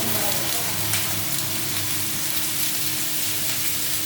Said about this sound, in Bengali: এটা একটু ভাজবো।